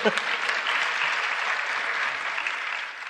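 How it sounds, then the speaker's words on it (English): Steady applause from an audience, a dense wash of clapping hands that holds evenly for a few seconds. "let the audience clap."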